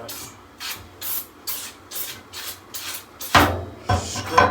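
A brush scrubbing the coil fins of an air conditioner during an HVAC maintenance visit, giving a steady series of about eight rhythmic rasping strokes, close and moderately loud, with no talk.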